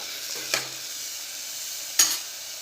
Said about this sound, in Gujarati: આ રીતે થોડીવાર તેલમાં સંતળાશે શાક તો આપણું શાક સરસ બનશે